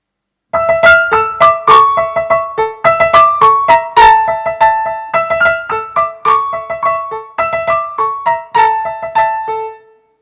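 A lively, stereotyped Turkish-style melody with plucked, percussive notes in rapid repeating phrases, loud and continuous throughout.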